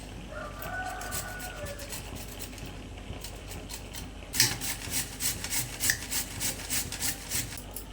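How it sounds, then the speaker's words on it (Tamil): A peeled carrot grated by hand for curd pachadi. Quiet rubbing gives way to a run of rhythmic rasping strokes, close and fairly loud, each scrape evenly spaced, with no talking. "கேரட் வந்து தோல் எடுத்துகிட்டு இந்த மாதிரி நீங்கள் துருவி எடுத்துருங்க"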